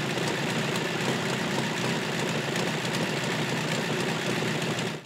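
Aircraft-engined replica of a 1904 Berliet race car running at a classic car parade at Silverstone, a loud, steady engine drone with dense rumble that holds constant for the whole stretch, close by, with no talk over it.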